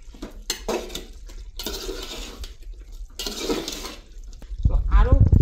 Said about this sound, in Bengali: তো এখন আমি সব উপাদান একসাথে নেড়ে চেড়ে দিচ্ছি।